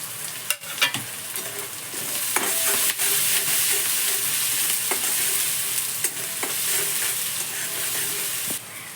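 Curry leaves, mustard seeds and crushed garlic cloves sizzle loudly in hot oil, a steady broadband frying hiss broken by sharp crackles and spoon scrapes as the pan is stirred, close and alone with no talk.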